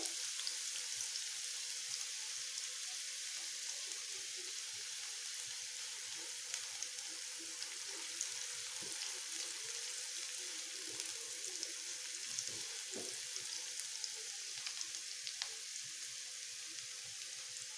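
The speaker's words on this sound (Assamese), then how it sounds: "এতিয়া আমি পিঁয়াজখিনি ভালদৰে 2-3 মিনিটমানৰ কাৰণে ভাজি লওঁ।" Chopped onions frying in oil in a pan for an egg masala, giving a steady, moderate hiss and crackle that runs throughout with no voices.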